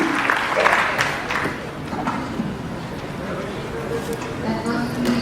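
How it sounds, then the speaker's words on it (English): A conference audience at a TiECon Kerala 2016 session applauding, a dense, sustained patter of clapping throughout with a voice talking faintly over it. "One more round of applause and all the best."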